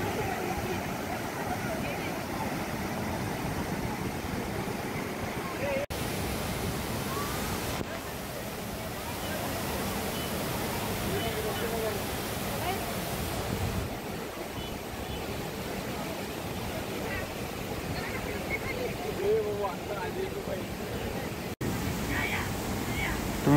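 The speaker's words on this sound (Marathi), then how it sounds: "तुम्ही बघू शकता पाणी खूप जोरात इथं वाहत आहे" Water rushes hard over the rocks at Kund Mala waterfalls near Talegaon, a steady, loud broadband roar lasting throughout with crowd babble mixed in.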